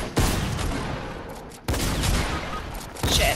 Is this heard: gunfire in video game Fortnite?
yes